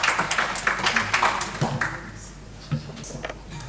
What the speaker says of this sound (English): Please clap your hands for her.